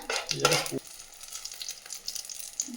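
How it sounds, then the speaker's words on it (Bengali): Whole cumin seeds crackle and sizzle in hot ghee, with a steady close frying hiss and a brief burst of louder spattering as they hit the fat. "এখানে যাচ্ছে হচ্ছে ঘি তারপর হচ্ছে গোটা জিরে"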